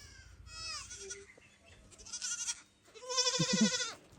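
Goats and young goat kids bleating on a farm, several wavering calls in turn, some high and thin and one louder, fuller cry near the end, close by with no talking.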